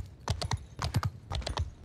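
Horse hooves galloping in the video game Mount & Blade II: Bannerlord, quick clustered thuds in a rapid repeating rhythm, fairly faint and brief, with no talking.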